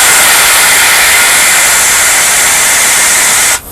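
Loud, continuous hiss of air from a steam passenger locomotive's automatic brake valve being released, a steady high rush that drops off sharply near the end.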